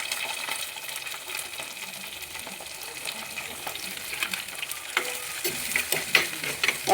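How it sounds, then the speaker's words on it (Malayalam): Ginger, onion, garlic and green chilli are stirred and sautéed in hot oil, giving a steady, fairly close sizzle with scraping stirs and a few light clinks of the utensil against the pan, with no talking. "എണ്ണയ്ക്കകത്ത് ഇട്ട് നല്ലതുപോലെ ഒന്ന് വഴറ്റി എടുക്കണം."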